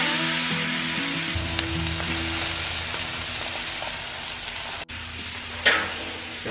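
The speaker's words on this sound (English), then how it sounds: "I got my grill nice and hot, and we are cooking up some tenderloin" Tenderloin sizzles on a hot grill, a steady loud frying hiss close by with a faint low hum beneath and a brief break near the end.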